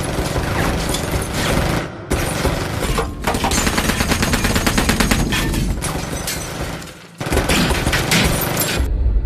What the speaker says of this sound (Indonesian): mendengar suara tembakan tersebut dari ruang perawatan